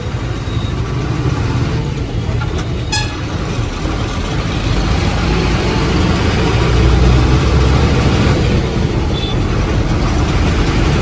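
A road traffic jam with an auto-rickshaw and cars crowded together, a loud steady rumble of idling engines close by with a few short horn toots.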